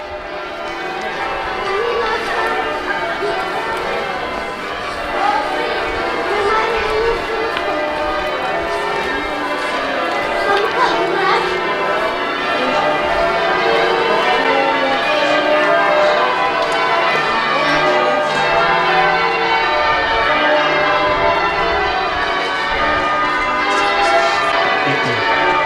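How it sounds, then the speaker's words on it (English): Lincoln Cathedral's bells ring continuously amid a busy outdoor crowd in Lincoln, England, a dense clangor of overlapping peals at steady loudness throughout. "You can probably hear the bells ringing now."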